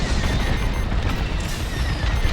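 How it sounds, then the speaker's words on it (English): Enemy blaster fire in Star Wars Squadrons, a dense, continuous rumble of booming shots and cockpit noise, loud and steady with no clear gaps. "Taking enemy fire."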